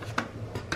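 A spoon working chicken and black pepper together in a pan for chicken chukka: two scraping strokes against the metal over a steady low background hum, close and moderately loud, with no talk.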